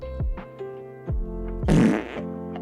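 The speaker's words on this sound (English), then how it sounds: "Why do you always do the fart sound effect?" A fart sound effect plays on a livestream, several short low blurts followed by one longer, louder buzzing fart, all clear and close with no talk over it.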